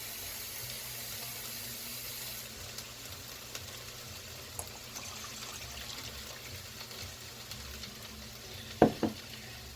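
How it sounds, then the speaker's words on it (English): Water poured into a pot of kielbasa cabbage soup with brown sugar, vinegar and bone broth, a soft, continuous running splash close by, with a couple of louder clinks near the end. "And now what we need is just 2 more cups of standard water"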